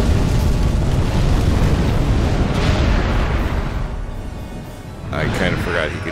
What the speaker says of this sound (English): I kind of forgot he could do fire breath.